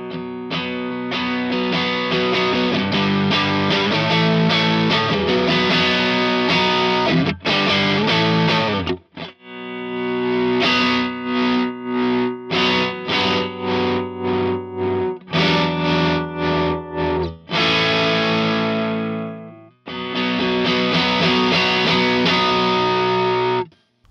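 A distorted electric guitar playing chords and riffs through an overdrive pedal, loud and saturated, with short pauses between phrases.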